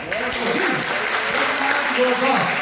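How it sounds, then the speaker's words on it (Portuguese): Church congregation clapping in praise of the Lord during a sermon, a dense steady wash of applause sustained throughout with voices calling out over it. "Eu ouvi uma salva de palmas para o Senhor"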